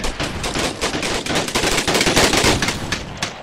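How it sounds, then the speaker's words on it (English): Loud, dense rifle volleys from a battle scene set in the Anglo-Zulu War at iNyezane, with rapid overlapping shots crackling without pause at close range and no voices. "The sound of the guns might be rather loud"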